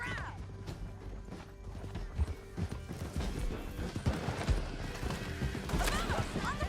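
Horses gallop in Red Dead Redemption 2 during a canyon chase, with rapid hoof clatter and a whinny beneath gunfire, crashes and shouting voices, busy and continuous.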